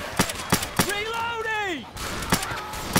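Gunfire in a zombie video game cracks out in sharp, evenly spaced shots, pausing while a voice speaks in the middle and then resuming with a few more bursts.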